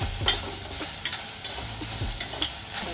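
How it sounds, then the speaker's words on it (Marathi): Onion fries in oil for a curry-leaf tempering for a ridge gourd dish, a continuous close sizzle broken by the regular scrape of a spoon stirring the pan. "हे बघा कांदो आता असं मग भाजून घ्यायचं"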